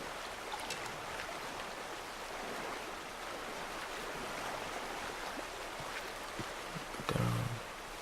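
Steady flowing stream water in the Red Dead Redemption 2 game world, a continuous broadband rush throughout with a brief low splash or thump near the end, no talking.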